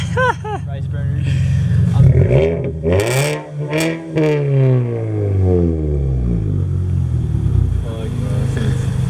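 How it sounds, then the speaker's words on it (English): A modified Mazda 3 four-door car engine revving hard, with rising and falling sweeps as the car accelerates past; people talk around it. "It's a Mazda 3 4-door."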